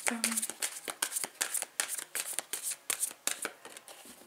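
A deck of tarot cards is cut and handled up close, a rapid run of crisp flicking and slapping card sounds with uneven rhythm. Someone speaks French softly over them.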